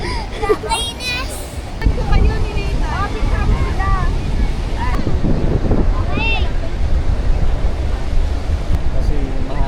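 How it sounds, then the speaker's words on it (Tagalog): Strong wind rumbles across the microphone at a Boracay beach with surf in the background, while several people talk and call out nearby. "Kasi mahangin."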